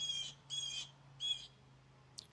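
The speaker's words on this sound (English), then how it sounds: "You can still hear birds" Birds call outdoors in three repeated bursts of high squawking chirps, with a low steady hum underneath from a distant lawnmower, and a short sharp click at the very end.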